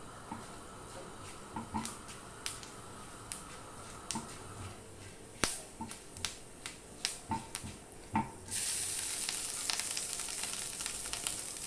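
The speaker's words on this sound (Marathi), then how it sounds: "मसाला भाजताना मी खोबरेल तेल वापरलेलं आहे" Coconut and masala roasting in coconut oil for a Karnataka-style puran poli, heard as a faint close sizzle with scattered ticks and stirring clicks, then a louder steady frying hiss near the end, with no voices.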